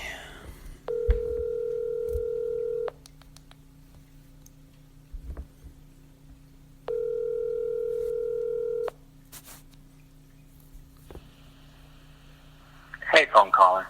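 A telephone call tone played over speakerphone, two steady two-second beeps separated by a long pause, fairly loud and close, with faint room noise between them and a brief burst of sound at the end.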